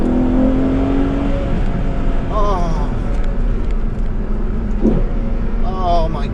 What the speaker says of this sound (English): downshifts as well. Immediate, beautiful blips of the throttle.